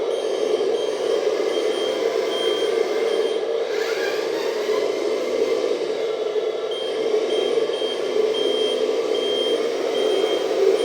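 A 1/14-scale RC hydraulic dumper truck on a 6x6 metal chassis drives at low speed, giving a steady electric motor whine with a regular reversing beeper pulsing throughout, close and continuous.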